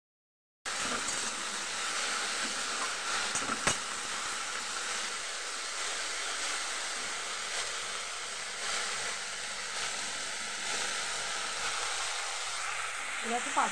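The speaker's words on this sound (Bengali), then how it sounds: "দেখো 5 ফোড়ন দিয়ে দিয়েছি" Panch phoron spices hitting hot oil in a pan while cooking a cabbage-leaf chorchori, a steady broadband sizzle that runs unbroken throughout, close and moderately loud, with a brief sharp crackle near the start.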